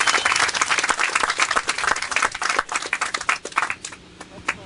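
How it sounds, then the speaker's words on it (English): A crowd at a ten-year celebration gives a round of applause, sharp, close clapping that is dense and uneven at first, then thins into scattered claps as it winds down. "I want you to give him a round of applause"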